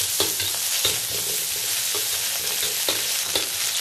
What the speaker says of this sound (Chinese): 将肉片炒香炒出油